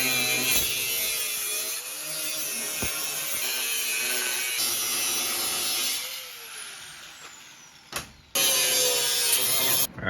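A power cutting tool slices steady and loud through rusted rocker panel sheet metal on a Dodge D200 Sweptline crew cab pickup, grinding continuously for several seconds with a brief pause and a sharp restart near the end.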